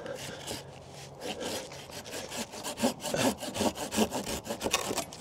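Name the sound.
hand saw cutting a peach tree branch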